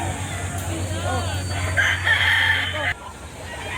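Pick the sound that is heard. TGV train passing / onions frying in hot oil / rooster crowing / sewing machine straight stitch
rooster crowing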